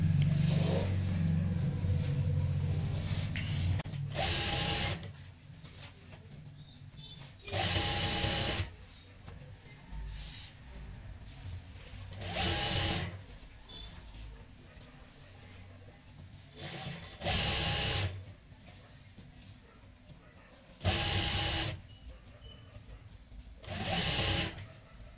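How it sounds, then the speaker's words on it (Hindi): Sewing machine stitching along a saree belt, several bursts of steady mechanical whirring a few seconds long, separated by quieter pauses with low background hum. "और अब हम पूरी पट्टी पे ऊपर की साइड सिलाई लगा लेते हैं"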